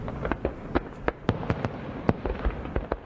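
Victory Day fireworks in the Moscow region, a rapid, irregular volley of sharp bangs and pops over a steady crackling rumble, loud and continuous with no one talking.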